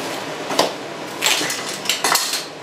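Utensil scraping and clinking against a bowl while stirring batter to keep it from sticking at the bottom, a few short close bursts of clatter over a quiet background.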